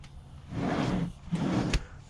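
A large storage drawer built under a step in a box truck tiny home slides open or shut twice, each a close, hollow rumbling glide ending in a soft knock.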